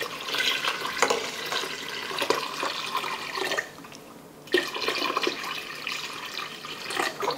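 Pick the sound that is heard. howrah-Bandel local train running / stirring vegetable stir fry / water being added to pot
water being added to pot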